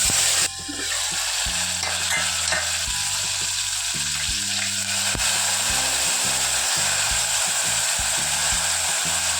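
Mustard and cumin seeds sputter in hot oil for a flower-bateta (cauliflower and potato) shaak, giving a steady, loud sizzle with scattered crackles and pops throughout, and no talk.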